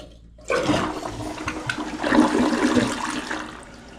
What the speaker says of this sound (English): Give it the first test flush.